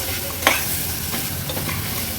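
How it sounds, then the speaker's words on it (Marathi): Mutton trotters stir-fried in masala in a pot, a continuous close sizzle with a sharp utensil clack near the start and soft stirring scrapes. "मसाल्यामध्ये हे पाय असे परतून घेते"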